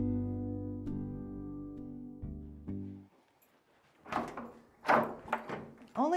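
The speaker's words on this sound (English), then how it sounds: "Only a couple more doors." Doors open and close inside a university art gallery and supply area: a sustained tonal hum fades out, then a cluster of close, sharp thumps and rattles follows from handles and latches.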